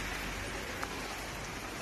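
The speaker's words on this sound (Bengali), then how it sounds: "এই দেখো আবার বৃষ্টি" Rain falls fairly heavily, a dense, even wash of broadband patter close by, steady throughout without voices.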